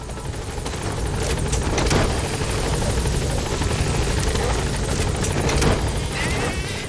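Helicopter rotors beat loudly and continuously in the video game Metal Gear Solid V, with bursts of distant gunfire mixed into the steady thumping.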